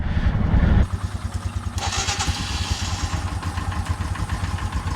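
A Royal Enfield Himalayan motorcycle engine fires up in the cold on a high-altitude ride toward Everest Base Camp: a loud burst as the starter cranks, then a steady, close, thumping single-cylinder idle.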